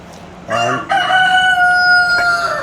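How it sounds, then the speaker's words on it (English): A rooster crows loudly nearby in Bali, one drawn-out cock-a-doodle-doo rising above a steady background hum. "Noisy chicken."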